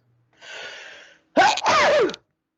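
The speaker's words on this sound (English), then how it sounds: "Oh, I'm gonna sneeze." A sharp inhale followed by one loud, explosive allergy sneeze, close and clear, with silence around it.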